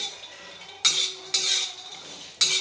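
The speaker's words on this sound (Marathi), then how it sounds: "तोपर्यंत आपण आता शेंगदाणे भाजून घेऊ" Peanuts roast over a low flame while being stirred in a dry pan: three distinct bursts of rattling, scraping stirs, each a second or less, separated by quieter gaps with no talk.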